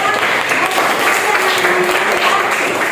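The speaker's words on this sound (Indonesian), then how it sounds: "Oke, tepuk tangan buat Madisika ya." Classroom applause, a steady wash of many hands clapping throughout, loud and continuous with no pauses.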